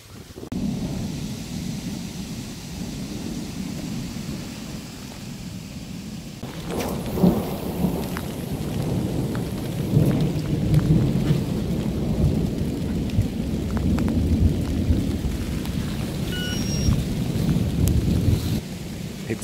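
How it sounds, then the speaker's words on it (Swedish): A thunderstorm at a Polish fishing lake, steady heavy rain drumming on surfaces with wind buffeting, broken by a loud thunder crack and rolling rumble that lingers under the downpour. "Ja, nu har det börjat åska och blixtra här."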